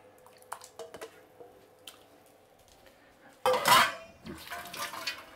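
A washed pork leg goes into a pot of cold water with a sudden splash and sloshing after a few quiet drips and small clinks, heard close and fairly quiet overall.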